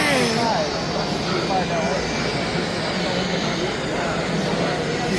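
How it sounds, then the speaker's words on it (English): A German model train engine runs at a model railroad show, a steady dense whirring rumble held close and even throughout, with people talking over it. "and there's your German engine"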